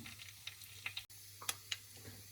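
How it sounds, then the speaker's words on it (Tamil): Mustard seeds and cumin splutter in hot oil as scattered, faint crisp pops and ticks at an irregular pace, quiet and close, with no voices over them. "1 தேக்கரண்டிக்கு பெரிய சீரகத்தையும் போட்டுட்டு பொரிய விடுவோம்."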